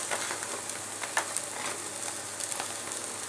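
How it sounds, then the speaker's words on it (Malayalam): Chopped carrot, onion and vegetables sauté in hot oil with crushed chili, a steady close sizzle with a few soft stirring clicks and no voices. "ഇനി വെജിറ്റബിൾസ് ഇതിൻ്റെ അകത്തിട്ടിട്ട് നന്നായിട്ടൊന്ന് സോട്ട് ചെയ്തെടുക്കണം."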